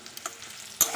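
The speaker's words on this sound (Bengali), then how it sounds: "আর এখন দিচ্ছি এই যে পেঁয়াজ দিয়ে একবার ভালো করে নেড়ে নেব" Bitter gourd, potato and onion fry in a pan, giving a soft, quiet sizzle that ends in a sharp scrape of a spatula stirring.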